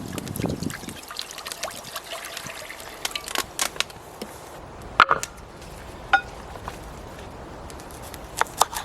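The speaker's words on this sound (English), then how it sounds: "I'm going to put this on and fill it up with a little bit of water." Water trickles and pours into a cooking pot being filled outdoors at a bushcraft roundhouse to boil lobster, a soft steady dribble with a few clicks and knocks and no talk.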